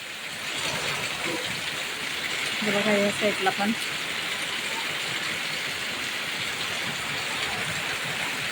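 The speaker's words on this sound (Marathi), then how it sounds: "आज पहिलाच पाऊस असा पडला आमच्या गावाला मस्त झालेला आहे पाऊस" Steady hiss of heavy rain falling across a village in Jalgaon during the season's first downpour, with strong wind, continuous throughout, while someone speaks briefly over it.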